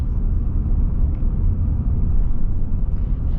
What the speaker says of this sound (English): be able to hear a little bit more of the glory of this powertrain. But oh man, it's such a clean sound.